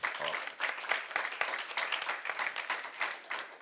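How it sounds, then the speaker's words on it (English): Applause rises from the audience for the debaters at a debate and impromptu speaking competition finale, steady clapping that swells and dips, heard fairly softly in the hall. "So another round of applause for them."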